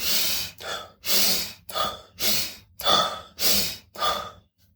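Rapid Wim Hof-style breathing exercise: about eight forceful breaths close to the microphone in a quick regular rhythm, each a rushing inhale and exhale separated by short gaps, with no speech.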